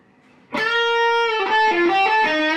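Electric guitar played through a Mesa Boogie TA30 Transatlantic valve combo at high gain, thick sustained distorted notes ringing out loud and alone, then shifting pitch in a bending melodic phrase.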